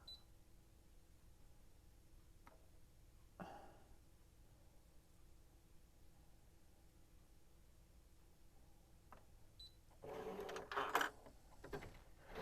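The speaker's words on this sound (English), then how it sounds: "it's having us learn the machine a bit, and it's only drawing the blue part of the pattern" A Brother ScanNCut cutting machine draws a pattern with a pen, giving a faint mechanical whir with a low steady hum, sparse clicks, and a louder burst of movement near the end.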